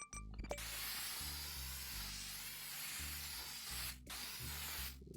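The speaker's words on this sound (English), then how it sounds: "Wait, I need to spray it." Spray painting a vehicle in the video game Mars First Logistics: a steady, loud hiss of spray runs nearly continuously over a low droning game music bed, with a brief break near the end before the spraying resumes.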